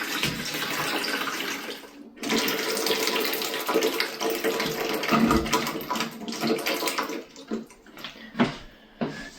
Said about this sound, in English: I'm now going to move this fill valve, and the water is going to now fill up into the bucket.